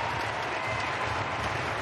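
Crowd cheering and clapping at a women's ice hockey bronze-medal game between Norway and the USA at the 2019 Winter Universiade, a steady dense roar of applause filling the arena throughout.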